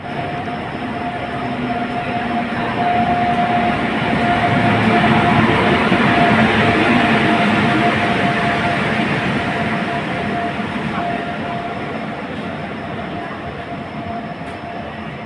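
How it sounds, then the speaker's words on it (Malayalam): Ernakulam–Guruvayur passenger train pulling into Thrissur railway station at night, a loud continuous rumble of rolling coaches that swells midway and slowly eases, with a faint steady tone above it. "ഇതാണ് first train, Ernakulam Guruvayur passenger."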